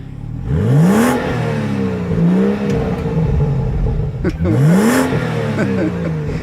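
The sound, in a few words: BMW 435i M Sport engine revving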